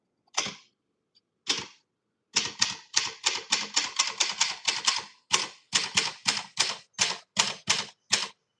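Typing on a 1948 Olympia Elite manual typewriter with a German keyboard: a few isolated key strikes, then a fast, steady run of close, loud clacking keystrokes with brief pauses, no voices.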